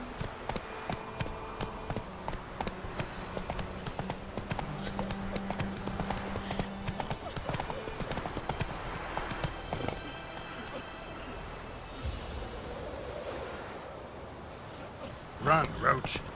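The horse Roach gallops in The Witcher 3, a quick steady clip-clop of hooves running under game music and ambient sound, with a brief voice near the end.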